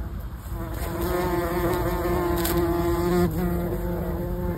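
Bees and a small wasp buzz around flowers, a close, steady, droning hum that holds throughout with a slight pitch shift near the end.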